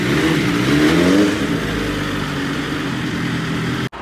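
A motorcycle with dual GPR exhausts revs while warming up, a loud, close, throaty engine that climbs in pitch, then settles to a steady rumble before cutting off abruptly near the end.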